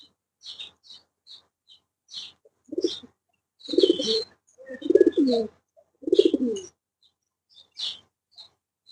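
Pigeons coo in several throaty, rolling bursts close by, with faint high chirps scattered between them in an otherwise quiet space.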